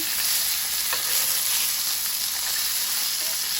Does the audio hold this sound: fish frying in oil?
yes